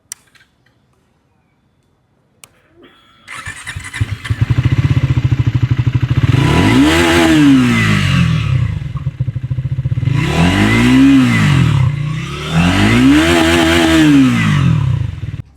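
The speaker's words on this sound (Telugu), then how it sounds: "ఇప్పుడు ఒకసారి ఎగ్జాస్ట్ నోట్ అలాగే ఇంజన్ సౌండ్ విందాం." A 2026 Triumph Tracker 350 motorcycle starts up after a brief silence, settles into a loud close idle, then revs hard three times with rising and falling exhaust swells, no talking.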